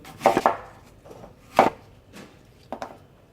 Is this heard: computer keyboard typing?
no